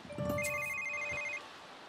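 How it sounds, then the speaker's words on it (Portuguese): A phone rings in The Sims 3, a bright electronic ringtone with steady tonal beeps held for over a second, then a quieter tail; no talking over it. "Olha o telefone, tocando loucamente."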